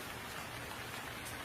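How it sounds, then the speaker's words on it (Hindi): Heavy rain pours down over a village, a dense, steady hiss of drops that fills the whole stretch evenly with no pauses and no voices. "सच में बड़ी ही तेजी से बारिश हो रही है"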